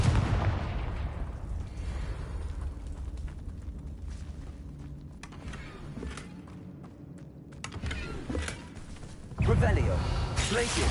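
Confringo spell blasts in Hogwarts Legacy, booming magical explosions with thumps and rumble, a heavy burst near the end, under a character's voice speaking.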